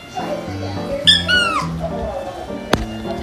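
A house cat lets out a loud, drawn-out meow near the microphone, with a few softer cat vocal sounds and a sharp click over a low background hum.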